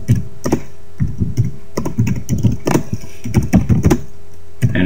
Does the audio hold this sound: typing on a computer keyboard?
yes